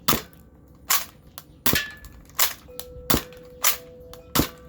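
A Nerf Scout MKII blaster fires seven sharp, loud snapping shots at fairly regular intervals, each a quick crack with a short decay, close by and with no talking.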